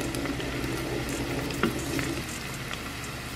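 Garlic frying in an Instant Pot, a steady soft sizzle with occasional light stirring scrapes, fairly quiet and without talk.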